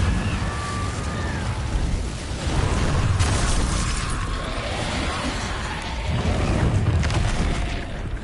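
Fiery spell blasts from Hogwarts Legacy on PS5 roar in dense, loud bursts, with rumbling booms swelling around the middle and end over a constant crackling wash, no voices present.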